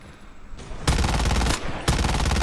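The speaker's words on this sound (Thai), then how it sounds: "มันก็จะยิงตรงระยะไกลได้นะแต่ก็ไม่แนะนำให้ยิงไกลนะครับให้ยิงระยะปชิดดีกว่า" Dual guns firing in Call of Duty Mobile: dense, loud bursts of rapid gunfire in two long volleys, separated by a brief gap and preceded by quieter game ambience.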